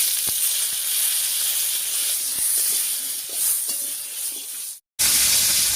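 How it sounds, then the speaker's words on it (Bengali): Bitter gourd sizzles and hisses steadily in hot leftover fish-frying oil in a wok, with faint stirring scrapes throughout and a brief drop to silence near the end. "মাছ ভাজার পর কড়াইয়ে যে তেলটা রয়ে গেছে এর মধ্যে উচ্ছেটা ভেজে নিচ্ছি"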